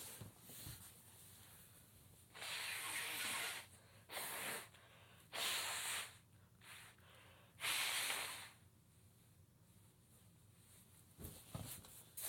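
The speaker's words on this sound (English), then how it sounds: "I have to blow my nose again." Close, loud bursts of nose blowing come in several separate blasts of rushing air with quiet pauses in between, ending with a couple of short sniffs.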